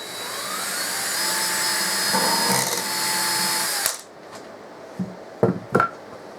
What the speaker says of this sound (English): Take your drill again, ever so easy.